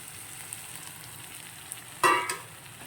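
Roasted semolina stirred into sautéed vegetables in a pan for rava kichadi: a faint steady frying hiss, then one sharp close scrape of the spoon followed by a short second scrape.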